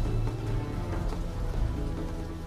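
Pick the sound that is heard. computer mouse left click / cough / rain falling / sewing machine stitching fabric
rain falling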